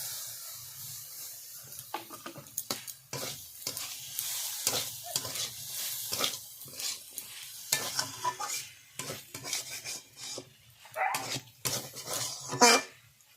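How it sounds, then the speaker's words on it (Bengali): Boiled potatoes sautéing with mustard paste in a pan for a fish-head and greens curry, with repeated scraping stir strokes and a light sizzle, plus a few sharp intermittent clacks near the end. "আবার একটু সাঁতলিয়ে নেব"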